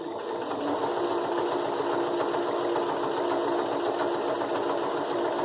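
A sewing machine stitches a hexagonal fabric pot holder, its motor running in a steady, fast mechanical whir close by, uninterrupted for the whole stretch with no voices.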